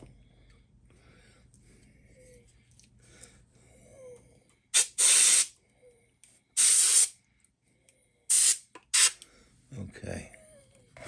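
Short bursts of spray paint hiss while a 3D Superman figure is painted, several loud, close sprays of about half a second each separated by quiet gaps, with faint background sounds between.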